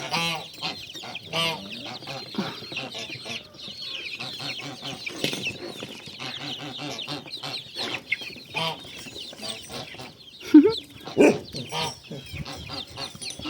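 A flock of chicks and a large white rooster clucks and chatters continuously nearby, with a few louder squawks breaking out near the end.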